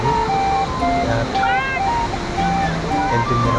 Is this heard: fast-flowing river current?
yes